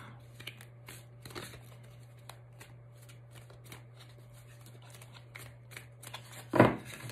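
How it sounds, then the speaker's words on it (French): Tarot cards are shuffled close by in quiet, repeated soft riffles and slides over a steady low hum. One louder handling burst comes near the end. "On va la battre."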